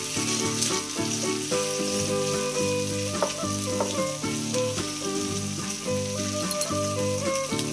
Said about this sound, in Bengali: এবারে এর মধ্যে আমি দিয়ে দেব ক্যাপসিকাম কুচি আর পেঁয়াজ কুচি।